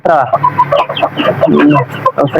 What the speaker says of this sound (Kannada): ಇವಾಗ ಇದ್ರಲ್ಲಿ 1-2 ಮರಿ ಈಸ್ಕೊಂಡ್ ಬಂದಿದ್ದೀನಿ